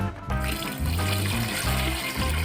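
Water from a gallon jug pours steadily into a container of turkey brine, a continuous gurgling trickle heard up close with no talking.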